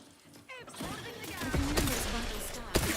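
Grenade blasts in a first-person shooter game, several sharp broadband bursts around one and a half to three seconds, loud against a busy backdrop of gunfire and other battle noise, with game voices heard mixed in.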